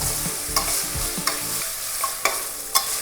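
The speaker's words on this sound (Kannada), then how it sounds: "1 ನಿಮಿಷ ಇದನ್ನ ಫ್ರೈ ಮಾಡ್ಕೊಂಬಿಡೋಣ." Green peas fry in a pan for matar pulao, with a soft continuous sizzle broken by several sharp clinks of a spoon stirring against the pan, close and alone without talk.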